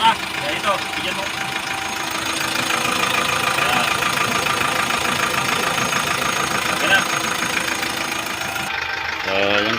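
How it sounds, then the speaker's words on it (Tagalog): A Kia K2500 engine idles steadily with a low, even rumble and slight knock, close up, while people talk over it throughout. "So yun guys, andar na ating engine."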